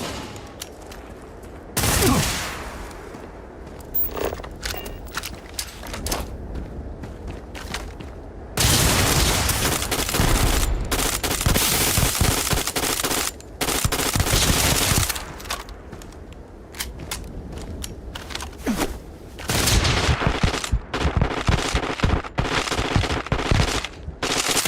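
Weapons fire in Starfield: loud bursts of automatic gunfire and rapid shots coming in repeated volleys, with brief quieter pauses between heavy stretches of shooting.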